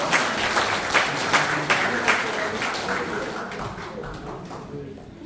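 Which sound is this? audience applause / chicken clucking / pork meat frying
audience applause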